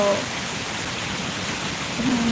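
Rain falls in Dhaka as a dense, steady hiss that stays even throughout, with no clear talking.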